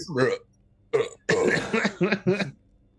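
A person's voice imitates a burp in a few short gurgling vocal bursts during a tabletop role-playing game session, close and fairly loud.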